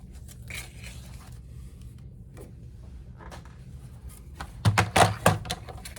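Scissors cut paper for an envelope folio, giving quiet snips and rustles early on, then a cluster of louder, close crisp cuts near the end.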